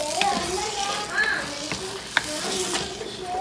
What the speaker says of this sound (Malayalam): അതുപോലെ ഇളക്കി സ്ക്രാമ്പിൾ ചെയ്തെടുക്കുക.